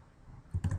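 Three quick keyboard key presses for a Control Shift Enter shortcut, soft close clicks bunched within a fraction of a second in a quiet room.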